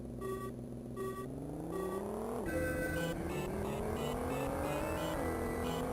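Phaeton car driving in Hot Wheels: Burnin' Rubber, its engine droning with rising pitch sweeps as it accelerates and shifts, steady and fairly loud throughout, with no talking.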